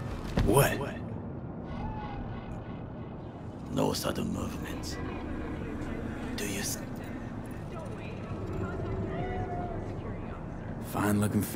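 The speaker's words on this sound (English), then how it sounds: "Fine-looking feline." A few short meows from a cat spirit in Cyberpunk 2077, fairly close, rising and falling over a steady background of ambient noise, with occasional soft thumps.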